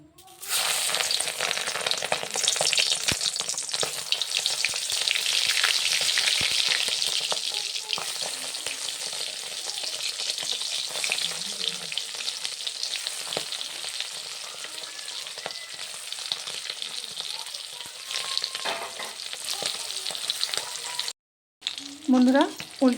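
Duck eggs frying in hot mustard oil in a kadai, a loud, dense crackling sizzle heard up close, easing slightly over time with some stirring scrapes and a brief break near the end.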